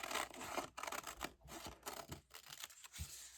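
Scissors snip through paper scraps for a collage, close and fairly quiet, a series of crisp cuts with short pauses and soft rustling between them.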